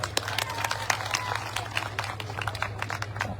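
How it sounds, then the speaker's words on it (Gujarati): Applause from an audience at a political rally in Sanand, Gujarat: steady, dense clapping from a crowd at moderate distance, continuous throughout over a low hum. "એકવાર તમારા માટે તાળીઓ થઈ જાય મિત્રો"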